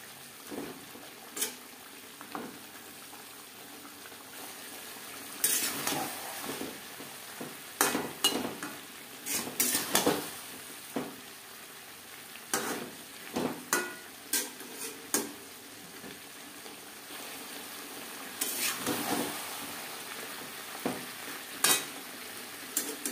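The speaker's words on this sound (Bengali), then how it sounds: "হাই টু মিডিয়াম ফ্লেমে 4-5 মিনিট নাড়াচাড়া করে নেব।" Potatoes and cauliflower with spices are stirred in a pan over a high-to-medium flame. A soft, steady fry runs underneath repeated clacks and scrapes of the spoon on metal, coming in irregular bursts.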